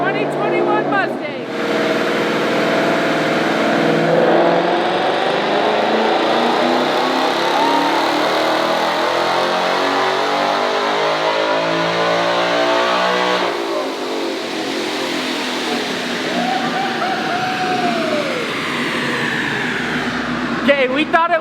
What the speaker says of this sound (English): Enough talking, without further ado, the Procharged 2021 Mustang.